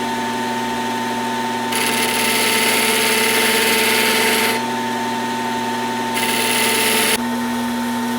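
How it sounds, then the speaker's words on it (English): Wood lathe turning a wooden lighthouse while a flat carbide bit cuts it straight, a steady motor hum with two louder stretches of rough cutting noise, close and alone. "Just using this flat carbide bit to get it real straight."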